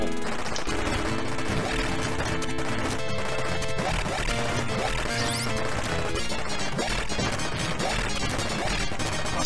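Dense, constant arcade gunfire and crashing explosions from the 1985 Capcom shooter Senjō no Ōkami, packed under chiptune music with no pauses, loud and busy throughout.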